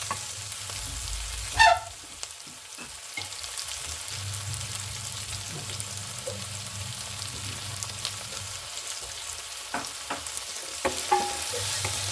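Food fries in a pan while it is stirred, producing a steady, moderate sizzle with occasional spatula scrapes and knocks. A sharper clatter comes early on.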